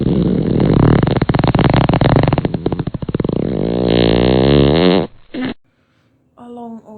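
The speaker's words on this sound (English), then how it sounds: "or it's just a long audio fart clip?" A long, loud, rumbling fart-like noise runs for about five seconds, sputtering and buzzing with a rising rasp, then breaks off into brief quieter tonal sounds.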